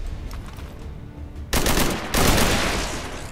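Rapid turret gunfire bursts in the video game XCOM 2, a steady automatic rattle that jumps louder twice in heavy, dense volleys with no talking over it.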